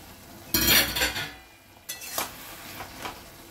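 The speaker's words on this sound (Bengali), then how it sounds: "ঢাকাটা খুলে দেখি।" Lid lifted off a cooking pot of simmering eggplant, a sharp clattering metallic clang followed by a pause and a few lighter clinks and taps, close and fairly loud.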